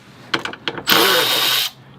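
Power tool removing screws from the front splitter of a BMW F80 M3 / F82 M4 during a carbon splitter install: a few short clicks and taps, then a loud close whirring burst of just under a second that stops abruptly.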